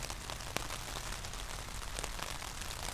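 Rain falls in central Kutaisi, Georgia, on a Sunday morning as a continuous dense hiss of drops on surfaces, with a few sharper taps standing out, and no voices.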